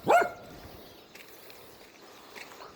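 A dog on a road gives a single sharp bark right at the start, then only faint, quiet outdoor background remains.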